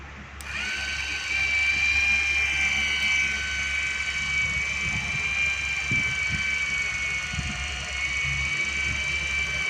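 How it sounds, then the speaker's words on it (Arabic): An HH1.2 satellite dish motor runs with a steady, high mechanical whine, starting abruptly and holding evenly for several seconds, with faint clicks and knocks underneath. "طبعا سامع صوت الموتور"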